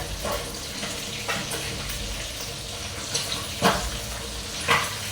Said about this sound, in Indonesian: Saya mau lagi goreng ayam, goreng lele